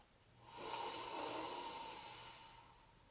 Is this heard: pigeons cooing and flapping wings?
no